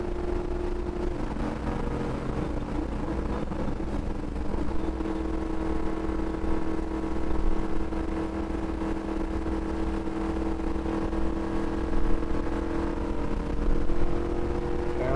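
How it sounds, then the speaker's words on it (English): A NASCAR race car on track at Texas Motor Speedway, its engine droning loud and steady from inside the car, with a sustained high pitch that holds and pulses at the rev limiter. "Hit that rev limiter again."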